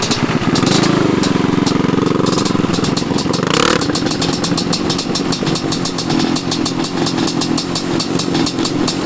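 A worn Honda CR500 two-stroke dirt bike idles at a sand drag-racing event. The idle is loud, close and steady, with one quick blip of throttle partway through.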